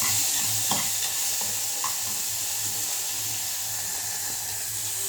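Ingredients for rasam fry in a pan with a steady, close hiss of sizzling oil and a few light stirring knocks, with no voices.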